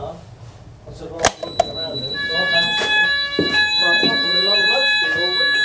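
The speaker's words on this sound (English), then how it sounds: "on the call point and the fire alarm will all go off." A fire alarm sounding after a call point is pressed, steady electronic tones starting partway in and continuing under a voice.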